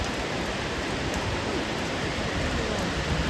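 Heavy rain pouring steadily over an open play area where school children gather to play in Mumbai, a dense, even hiss with no breaks and no voices.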